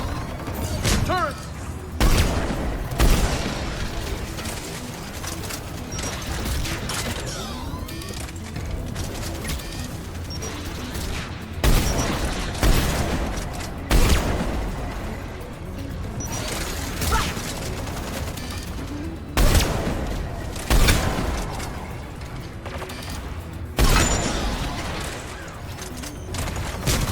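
Turret fire from a Mass Effect 3 firefight, heavy bursts of shots and booming impacts recurring every few seconds amid constant battle noise, with voices talking over the action.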